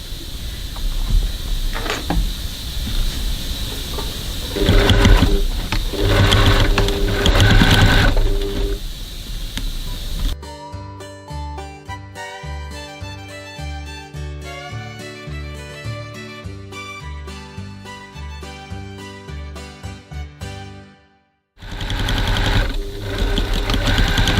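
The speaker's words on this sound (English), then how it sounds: "now we're going to stitch as close as we can to our piping" Close sewing machine stitching seams tight against fabric piping, a rapid rhythmic mechanical whir running steadily for about ten seconds with a brief stop, after earlier handling noise.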